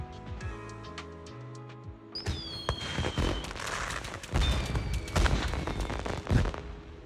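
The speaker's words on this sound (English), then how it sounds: "Miss Bell, please light up the fireworks and receive your title as Elp's Ultimate Angler of the Season" Video game fireworks from Zenless Zone Zero, celebrating a fishing title: after a calm musical intro, a whistling launch rises into a dense run of sharp bangs and crackles that grows louder and stays busy to the end.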